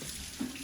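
A kitchen or bathroom faucet runs for hand washing before dinner, a faint, steady water hiss with a brief louder splash partway through, heard alone without talking.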